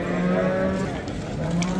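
A cow lowing at a busy Samarqand Pastdarg'om livestock market, long deep moos repeating over a steady crowd murmur, close and loud.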